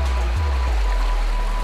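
Juráni stream rushing through a steep-walled rocky gorge in winter, a steady, full broadband water roar close by with no pauses, alone without voices.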